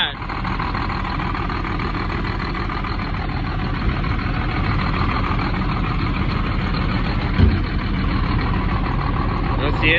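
A parked coach for sale runs its engine, a steady loud diesel-like rumble and drone that holds evenly throughout with a brief knock near the end, no one talking over it.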